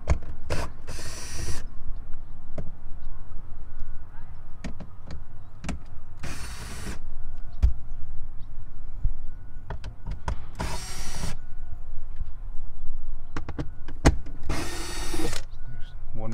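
A power tool whirs in several short bursts while loosening Torx T30 nuts on a Porsche Cayman engine cover. Light metallic clicks and taps fall between the bursts, over a steady low background hum.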